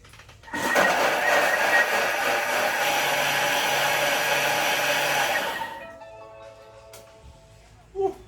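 A loud, steady blender whir blending carrots runs for several seconds, then cuts off abruptly, leaving faint clatter and a brief knock.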